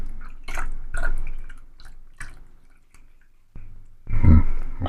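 Lye solution trickles slowly into a tulsi soap mixture, giving a few separate close drips and small splashes with quiet gaps between them, ending in a louder wet splash.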